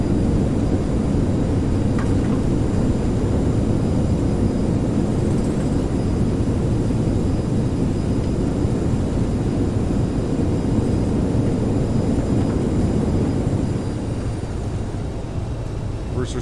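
CRJ700 jet engines in X-Plane 11 on landing rollout at Helsinki, a steady loud broadband roar of thrust reversers that holds for most of the stretch and eases off slightly near the end.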